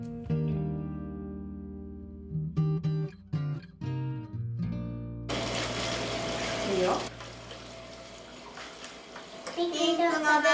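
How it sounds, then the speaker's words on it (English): Water runs steadily through a plastic flowing noodle machine for somen, a broad wash of flow that starts partway in after some clinks, with children's voices talking over it. "This is the flowing noodle machine I'm going to use."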